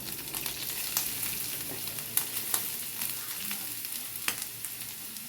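Beetroot upperi sizzles and crackles softly in a pan with spluttered mustard seeds, steady frying with faint stirring scrapes and small pops.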